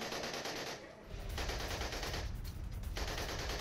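Gunfire during a Ukrainian soldiers' attack in Bakhmut, dense rapid bursts of machine-gun fire that are distorted and continuous, with a brief lull, and no voices.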